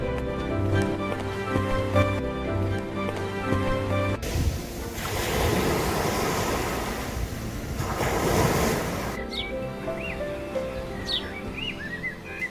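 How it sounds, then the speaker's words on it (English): Ocean waves break and wash onto a beach in a broad roaring surge, framed by stretches where birds call over a gentle background. "The ocean is so beautiful. The beach looks perfect."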